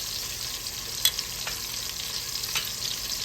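Kielbasa sausage frying in a pan for a Cajun shrimp and sausage pasta, a steady close sizzle with a faint clink of a utensil, no talking.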